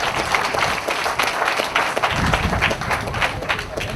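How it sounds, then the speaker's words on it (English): An audience applauds a school principal at a primary school rededication ceremony, a dense, continuous patter of many hands that holds steady throughout. "So congratulations, let's clap the leader."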